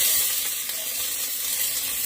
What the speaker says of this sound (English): back up, because it's gonna sizzle